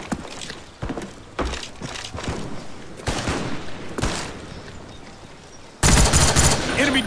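Gunfire in Call of Duty Black Ops 1 combat training: repeated sharp rifle shots and bursts with footsteps between them, ending in a loud, dense burst of continuous fire.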